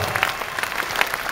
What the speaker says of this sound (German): der verdiente Applaus